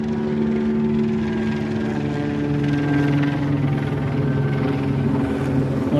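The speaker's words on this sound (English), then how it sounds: "And the helicopter. The OPD, they're out and flying around." An OPD police helicopter flies overhead during an outdoor Route 66 car show, a loud, steady rotor drone with a throbbing engine hum that stays prominent throughout, no voices over it.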